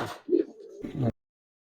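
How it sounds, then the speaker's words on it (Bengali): A Giribaz pigeon gives a short, close coo of two soft throaty bursts, then silence. "ডাকটা এখান থেকে দেখাই দিলাম কারণ অনেকে ডাক পছন্দ করেন পার্সোনালি আমিও কবুতরের ডাক পছন্দ"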